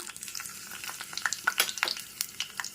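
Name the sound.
hot oil sizzling in a pan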